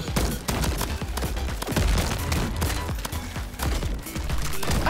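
Rapid sniper gunfire in the video game Crab Champions, a dense continuous barrage of sharp overlapping shots and impacts throughout, loud and close with no clear speech.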